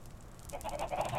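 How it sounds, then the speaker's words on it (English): Chickens on a chicken farm in the video game Minecraft, a few short squawking clucks in quick succession, close and fairly clear. "Got a little chicken farm here."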